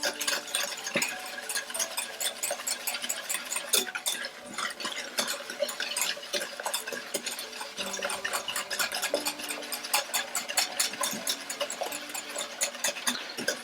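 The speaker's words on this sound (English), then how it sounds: "keep whisking this until it starts to lighten in color" A whisk beats egg yolks and sugar in a bowl for eggnog, a fast, steady run of close metallic ticks and swishes that continues throughout without pause or voices.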